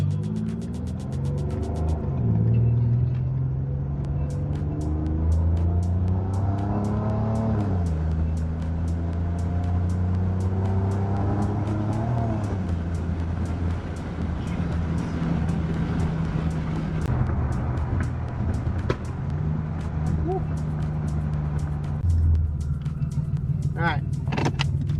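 A turbocharged 3.7 V6 Mustang pulls hard through the gears, engine tone climbing steadily in each gear then dropping at every shift, loud and continuous from inside the car, with some talk underneath.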